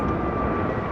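A fixed-wing airliner roars on a takeoff run at LAX, a loud, steady engine drone filling the short moment with no gaps.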